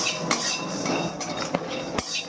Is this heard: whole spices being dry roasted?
yes